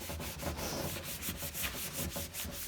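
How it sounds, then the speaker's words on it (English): Steady rubbing and scraping as a tool is pressed over paper laid on an inked lino block during hand printing, with repeated strokes in an even back-and-forth rhythm, close and moderately loud, no voices. "I will use this and apply pressure with my body weight and rub over the top"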